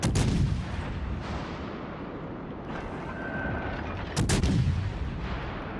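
Destroyer deck guns firing in World of Warships on the tier 6 premium Benham, two heavy booming salvos at the start and again near the end, with a rumbling battle din carrying on between them.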